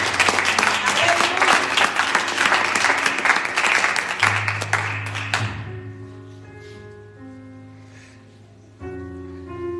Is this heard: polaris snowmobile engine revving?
no